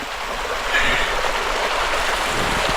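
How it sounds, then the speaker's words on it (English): A small waterfall on a farm rushes into a stream, giving a steady, close, broadband splashing hiss that continues without pause and without voices. "Check out that small waterfall down here."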